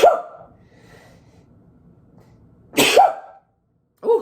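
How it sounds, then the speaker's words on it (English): A person sneezes and coughs in a quiet room: a sharp burst at the start, another strong explosive burst near the three-second mark, and a shorter one at the end, close and loud with near silence between. "I'm going to sneeze."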